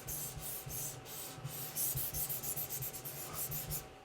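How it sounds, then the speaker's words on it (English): Quiet, steady rubbing strokes blend graphite on paper, smoothing a pencil drawing; soft, even back-and-forth scrubbing with a faint low hum underneath. "use it to blend everything together, smooth it out a little bit"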